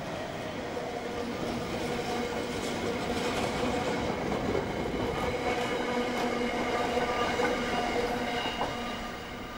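A diesel freight train hauled by a General Motors Class 66 locomotive rolls past with a steady, loud rumble and rail clatter, continuous throughout without any voices.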